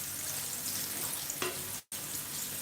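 Onions fry in a pot for jollof rice, giving a steady, dense sizzle while being stirred, with a brief scrape partway through and a momentary cutout near the end.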